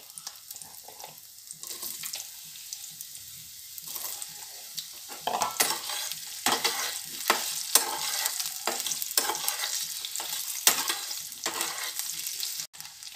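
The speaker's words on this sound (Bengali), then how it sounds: "আলুগুলো প্রথমে দিয়ে আগে ফ্রাই করে নেব।" Potatoes fry in oil with dried red chilli and black cumin, a close sizzle that starts quiet and grows louder, broken by repeated scraping stirs of a spatula in the pan, with no talking.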